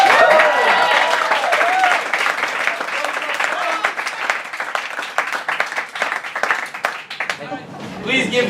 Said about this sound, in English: Give a big Hong Kong round of applause for Mike Stafford.